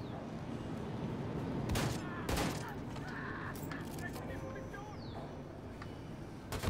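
Rapid bursts of gunfire from the video game Wolfenstein II: The New Colossus, loud and close over dense battle noise, with sharp shots clustered near the middle of the stretch and a voice talking throughout.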